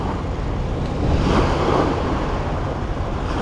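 Ocean waves on the coast at Sembawang: a steady, rushing wash of surf that swells louder for a moment in the middle, mixed with some wind noise and no talking.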